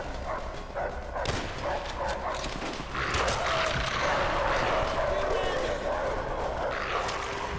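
A dog barks in the World War II shooter game Call of Duty: World at War amid busy in-game noise, and a player talks over the sound.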